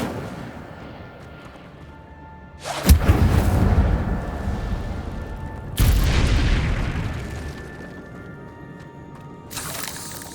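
An Incendio fire spell is cast repeatedly in the video game Hogwarts Legacy, producing three heavy, booming whooshes that each rise abruptly and then fade slowly, set apart by quieter gaps with no talking.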